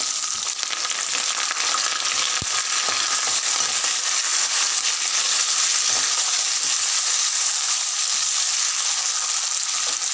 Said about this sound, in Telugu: ఇవి బాగా ఫ్రై అయ్యేదాకా కలపాలి